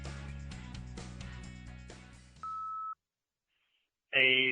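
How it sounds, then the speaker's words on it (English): A voicemail line gives a single clean, steady electronic beep of about half a second. Music plays first, a short silence follows the tone, and then a caller begins speaking. "Now it's your turn to speak at the beep."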